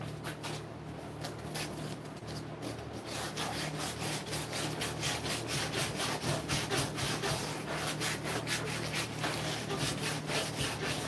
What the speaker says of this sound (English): trying to sand this maple